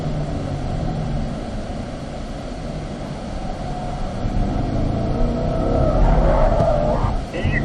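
Chevrolet Corvette C8 driving on a race track at a driving school, a continuous engine rumble with steady road noise that swells slightly toward the end.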